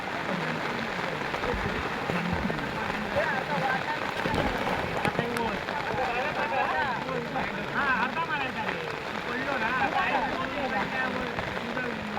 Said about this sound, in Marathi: पाऊस पण इलो हो जोरात आता